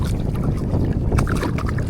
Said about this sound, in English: It's hard to handle everything in this wind right now.